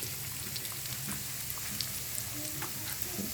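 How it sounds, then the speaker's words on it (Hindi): Raw chicken pieces frying in oil for a zinger burger: a dense, even crackle and sizzle like light rain holds steady and fairly quiet throughout, with no speech. "ये फ्राई होने शुरू हो गए"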